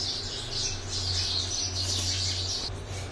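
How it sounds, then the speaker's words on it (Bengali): Small birds chirp and squawk steadily at a moderate distance, mixed with a low constant hum in the background. "পাখিগুলো কিচিবিচি করছি শুনতে পাচ্ছি"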